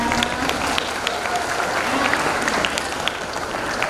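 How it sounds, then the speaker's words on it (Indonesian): An audience applauds at a school graduation ceremony, a continuous crackle of many hands clapping at moderate distance, with a few voices and whoops over it. "Nah, tepuk tangannya dong."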